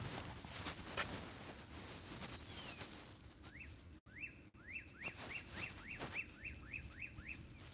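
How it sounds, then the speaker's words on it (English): Birds sing outdoors at Nails Creek State Park, faint and fairly distant: scattered chirps early, then a run of about ten quick rising whistled notes in a steady rhythm over soft background noise. "We have bird sounds all around us."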